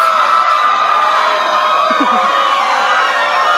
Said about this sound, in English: can't hear you over the crowd